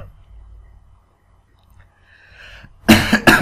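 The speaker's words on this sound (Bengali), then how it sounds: "বেশ কাশিও হয়েছে আসলে, এদিকে দাঁতের ব্যথা সাথে আবার কাশি" Two sharp, loud coughs from a person suffering with a cough and toothache, coming suddenly at the end after near silence and faint breathy sounds.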